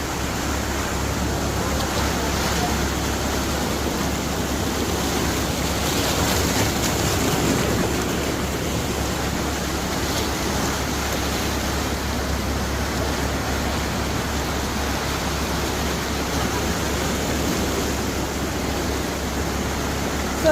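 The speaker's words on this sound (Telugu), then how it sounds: "ఇక్కడ అలకనంద రివర్ ఉంది" Alaknanda river water rushing at Badrinath, a steady, loud broadband roar of fast-flowing mountain water holding constant for the whole stretch, close by and without any break.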